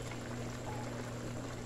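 Two small cups of water pour into a pot of rustic chicken stew with plantain, a steady, continuous splashing stream under a low hum, fairly quiet and without talk.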